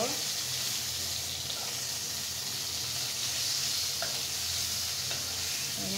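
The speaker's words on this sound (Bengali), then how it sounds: "এখন আলুর মতো করে আমি বেগুনটাকেও ফ্রাই করে নেব।" Cut eggplant frying in a pan, a constant close sizzle with light stirring sounds mixed in, steady from start to finish.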